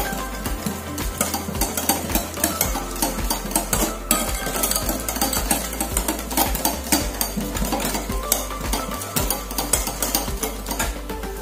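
Banana fritter batter being whisked by hand after adding two eggs, a steady rapid scraping and tapping of the utensil against the bowl, close and continuous with no talk.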